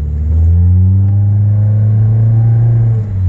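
A 2013 Nissan Altima with a muffler delete revs its engine, a loud, close, deep droning exhaust note that holds steady and eases off near the end, with no voices.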